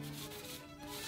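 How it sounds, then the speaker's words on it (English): A cloth dampened with alcohol rubbing epoxy squeeze-out off wooden boat frames, a brief continuous soft scrubbing swish, close and fairly quiet. "I'm using a little alcohol on this cloth to clean up all this epoxy squeeze out"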